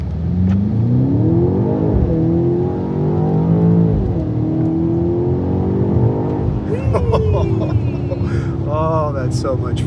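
Inside the cabin of a 2026 BMW X6M, the engine and exhaust roar under hard acceleration, pitch climbing and dropping through several gear changes before easing off as a person starts speaking near the end.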